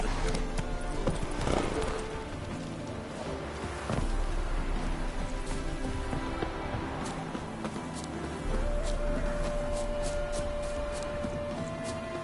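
A horse in The Witcher 3 trots and gallops with steady clip-clopping hooves over a dense game backdrop of ambient music and environmental sound, no talk.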